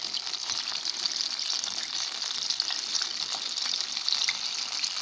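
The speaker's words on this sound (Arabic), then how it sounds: "طبعا الزيت كان سخن جدا، دلوقتي بوطيله الحرارة وبخليها متوسطة عشان الفراخ كمان تستوي كويس من جوه" Pieces of KFC-style chicken fry steadily in hot oil over medium heat, giving a continuous close sizzle with small crackling pops throughout and no talking.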